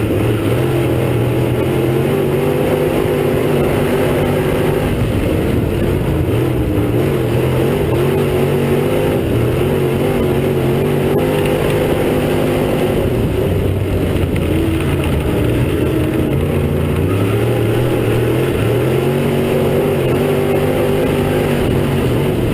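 Race car engines drone and rev continuously as cars circle a dirt track at Cedar County Raceway, a loud dense layered roar with shifting pitch as cars pass, no voices over it.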